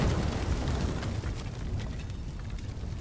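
A huge explosion blows up a dojo in the video game Ghost of Tsushima, a loud, sustained rumbling roar of debris and fire that keeps going for the full three seconds, with no voices over it.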